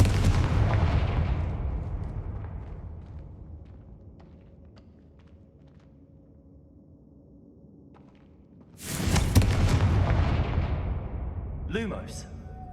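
The Confringo blasting spell explodes in the Hogwarts Legacy video game, a sudden loud boom that follows a quiet stretch and rumbles away as it decays, with a fading rumble from an earlier blast heard first.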